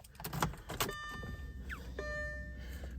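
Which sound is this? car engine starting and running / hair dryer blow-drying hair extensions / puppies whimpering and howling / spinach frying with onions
car engine starting and running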